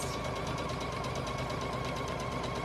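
A Bernette B79 embroidery machine, Yaya Han Special Edition, stitching out a design: a fast, even, continuous mechanical whir and rapid needle ticking that holds steady throughout.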